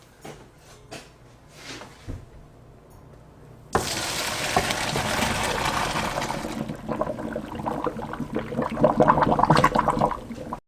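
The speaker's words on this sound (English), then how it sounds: "So let's get the pasta drained." Pasta water poured off into a sink, a sudden loud rush and splash that starts after a few quiet knocks and handling sounds, then carries on unevenly with shaking and sloshing until the end.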